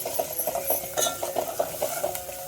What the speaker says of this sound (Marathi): कोथिंबीर थोडीशी फोडणीत छान अशी तळली गेली